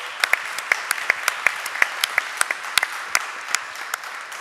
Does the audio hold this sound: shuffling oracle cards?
no